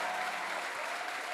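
A crowd applauding steadily at a church thanksgiving service, dense clapping filling the whole moment without a break.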